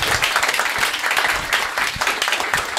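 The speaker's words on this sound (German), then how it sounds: "Applaus für Nora, die Moderatorin." A stand-up comedy show audience claps loudly and continuously for the presenter, dense close applause with crowd noise throughout.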